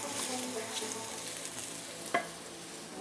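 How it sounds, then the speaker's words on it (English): Shiitake mushrooms sauté in a pan with a citrus dill seasoning, giving a steady close sizzle under continuous stirring, with one sharp utensil tap partway through. "We're gonna saute these with a continuous stir."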